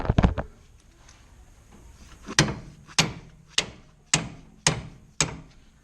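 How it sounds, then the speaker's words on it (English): Gentle hammer taps on a steering bolt of a first-generation Nissan Xterra: a few quick strikes at the start, then six crisp, evenly spaced metallic taps, close and clear against a quiet background. "Very gentle hammer taps."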